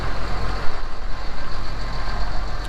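A Ford F650 sander truck with a Cummins 5.9 diesel engine runs close by, a loud, steady rumbling drone with a faint high whine over it.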